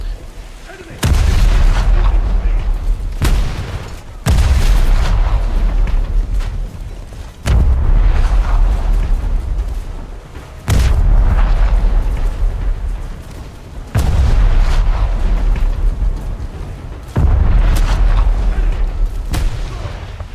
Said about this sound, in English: It's a bit sad to shoot at a Hawkwium though, because you don't see them that often.